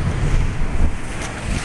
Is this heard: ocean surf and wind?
yes